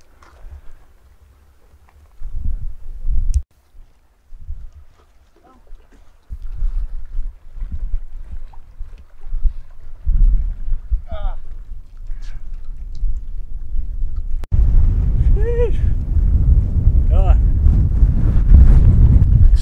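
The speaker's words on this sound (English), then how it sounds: "Super windy here, guys." Strong gusts batter the microphone at a windswept dam on Table Mountain. The roar is loud and close, building and rising in bursts, and faint bits of voice can be heard under the buffeting.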